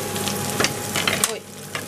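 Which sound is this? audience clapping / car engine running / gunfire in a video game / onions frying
onions frying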